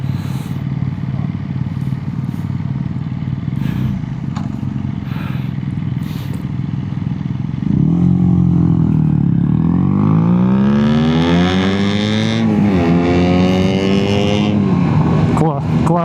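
BMW boxer-twin motorcycle fitted with an Akrapovic exhaust, a steady engine idle that swells into rising and falling revs in the second half, loud and close, with someone talking over it.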